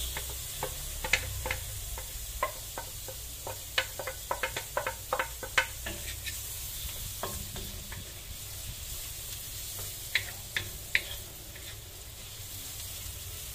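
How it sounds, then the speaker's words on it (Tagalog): Onions sizzle in a pan while buttered garlic crab is cooked. A soft, steady frying hiss runs throughout, dotted with sharp ticks and clicks of stirring that cluster early and recur near the end. "Tapos, lagay na natin yung sibuyas."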